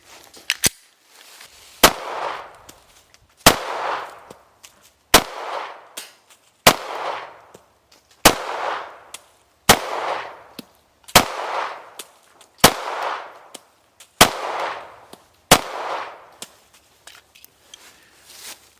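An IWI Masada pistol fires Syntac polymer coated ammunition at an outdoor range, about a dozen sharp, loud shots spaced evenly roughly every second and a half, each trailed by a brief ringing echo.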